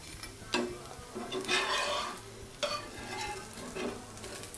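Rava dosa crisping on a hot pan gives a soft steady sizzle, with a few scraping strokes from a spatula as the thin crepe is loosened and folded, fairly quiet and close.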